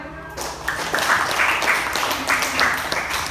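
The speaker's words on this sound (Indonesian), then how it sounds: "Ya, beri tepuk tangan." A classroom of students claps for a classmate, a short burst of hand clapping starting after a brief quiet moment and continuing fairly close and steady.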